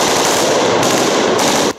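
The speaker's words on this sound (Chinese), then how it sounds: "伴随着枪声，醉鹰叫叫，进入第七天射击训练。 除了义务役熟悉的6K2 步枪、 T-4 排用机枪也不能少。" Rapid sustained bursts from a T-4 platoon machine gun at military shooting training, loud and close, continuous rattling fire that cuts off abruptly near the end.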